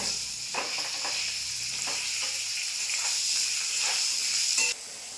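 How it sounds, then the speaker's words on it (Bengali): Eggplant frying lightly in oil in a pan gives a steady bright sizzle throughout, with a few soft scraping clicks from stirring and a small drop in level near the end. "বেগুনটাও হালকা করে ভেজে নেবো"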